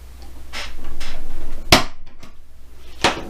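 Two sharp metallic snaps from an automatic center punch marking a Hot Wheels toy car's rivet for drilling, the second about a second and a half after the first, over a low steady hum and faint handling noise.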